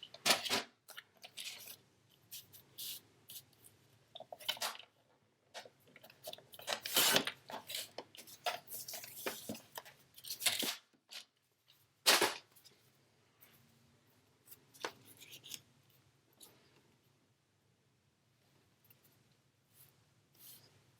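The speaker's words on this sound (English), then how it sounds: "Just going to trim a little bit more of this one off." Scissors snip and trim a paper journaling card, giving a series of close, crisp cuts and rustles in uneven bursts, with quieter paper handling between them and no talking.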